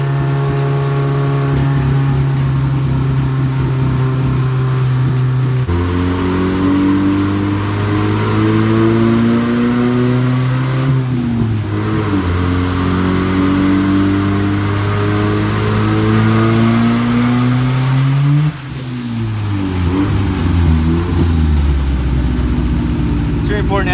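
A Honda Civic engine revs hard on a dyno, climbing in pitch through several long sweeping pulls with brief drops between, loud and close, ending with a sudden cut and renewed rise.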